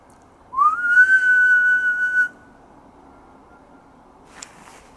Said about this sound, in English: It's like somebody on the field whistling dead loud.